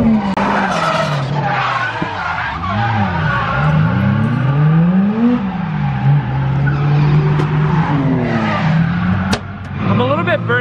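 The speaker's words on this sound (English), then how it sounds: "How can you not love the sound of a 1J?" Toyota JZX100 with a 1JZ engine, turbo and aftermarket exhaust, loud and close, revving and sliding with rising and falling engine pitch and screeching tires, like a drift run.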